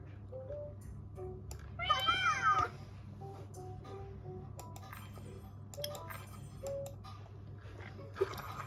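A synthesized cat meows once, clear and close, over a steady electronic hum with faint clicks and tones.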